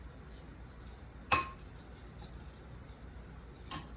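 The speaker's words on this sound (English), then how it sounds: "Give it a nice little stir." A spoon gives one sharp clink against a bowl while stirring chicken liver, followed by a softer tap a couple of seconds later, close and faint against quiet room tone.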